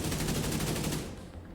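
Rapid automatic gunfire in the Division 2 video game, a fast even burst of shots close and loud that cuts off after about a second, leaving a fading tail.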